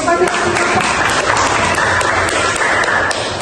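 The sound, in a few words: classroom applause, clapping hands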